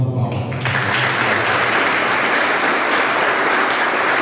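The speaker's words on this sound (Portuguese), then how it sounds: "Uma salva de palmas." Congregation at a memorial Mass applauding the choir, a dense, loud, sustained wash of clapping from a large group filling the church, continuous throughout.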